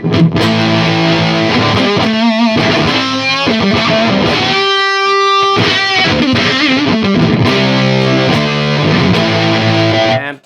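Electric guitar played through a Fuzz Factory fuzz pedal, loud and heavily saturated, with thick chords and sputtering, gated notes; a short near-silent gap mid-phrase before the riff resumes, no talking.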